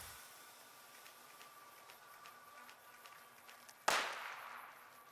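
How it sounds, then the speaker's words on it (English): A single sharp gunshot from the video game Fallout: New Vegas cracks out once against a faint steady background hum as a red scorpion is fired on. "Oh, is he shooting at that red scorpion?"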